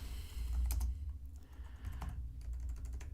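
Computer keyboard typing, a run of quick key clicks, some in short bursts, fairly close and at moderate level over a low background rumble.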